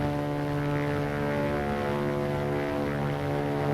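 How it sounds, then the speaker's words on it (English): A propeller-driven airplane drones steadily overhead, its engine producing an even, sustained hum of moderate loudness with no voices over it. "It's a plane, all right."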